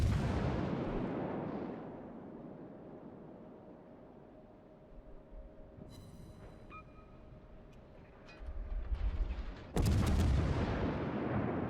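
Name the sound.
ship guns firing in World of Warships video game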